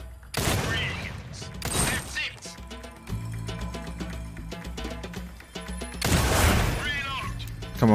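Bursts of rapid gunfire in a shooter video game, heavy volleys at the start and end with mechanical clicks and reloading clatter between, while a player talks over it.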